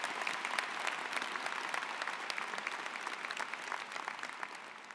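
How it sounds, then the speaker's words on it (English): Sustained applause from a commencement audience for the keynote speaker, a dense, steady patter of many hands clapping at moderate distance, holding even throughout with no voices over it. "One more round of applause for our keynote speaker."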